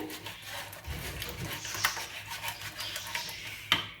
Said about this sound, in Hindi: इसको अच्छे तरीके से मिक्स कर लेंगे।